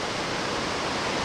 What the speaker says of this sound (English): And it is quite a torrent, you can hear.